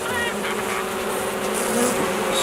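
Honey bees at a top bar hive, a dense, continuous buzzing swarm heard up close and fairly loud throughout, with many overlapping wingbeat tones.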